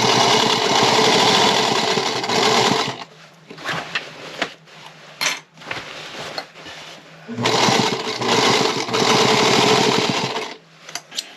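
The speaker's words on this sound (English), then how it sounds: "I'm going to take this to my sewing machine, and I'm going to sew from the bottom of the sleeve all the way to the bottom of the dress" A sewing machine stitches a side seam on a girl's peasant dress from sleeve to hem, with two long steady whirring runs separated by quieter handling and pauses, close and loud, with no talk.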